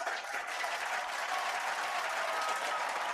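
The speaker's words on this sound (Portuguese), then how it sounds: "a gente merece muito essa salva de palmas" Steady, dense applause from a seated audience at a conference summit, filling the space evenly and loudly from start to finish with no voices standing out.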